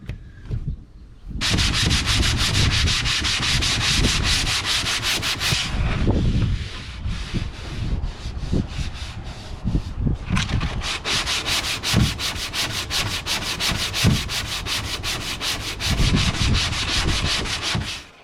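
Continuous abrasive sanding of a carbon mast, close and loud, a rough scraping rub that runs steadily with a brief dip midway.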